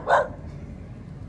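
A dog spotted in a small South Carolina town lets out a single short, sharp bark, fairly distinct against a low steady background rumble.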